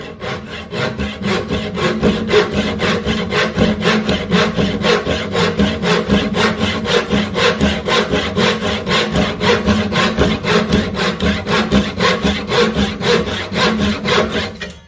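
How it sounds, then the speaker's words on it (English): A flush trim saw cuts off wooden plugs set into a wooden planter, its fast rhythmic back-and-forth strokes rasping loudly and steadily for the whole stretch, with no voices. "just finished up cutting off all of the plugs"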